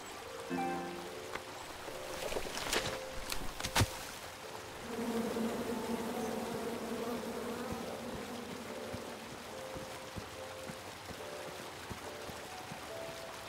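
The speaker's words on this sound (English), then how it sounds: "chop down the tree full of angry bees" Angry bees in the King's Quest game: a steady, droning insect buzz rises after a few sharp knocks and persists over a hissy, watery ambient background, moderately loud with no voices.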